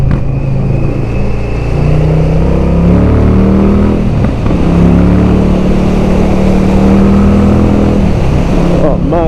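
A V-twin motorcycle engine revs and pulls hard, close up and loud, its tone rising and falling through throttle changes across the whole stretch, with wind noise and a voice heard over it.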